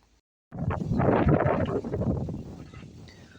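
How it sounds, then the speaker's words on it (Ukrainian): After a brief silence, a broad gust of wind roars against the microphone in a garden, loud and rushing, then eases slightly. "Дивіться, як вітер ним хитає"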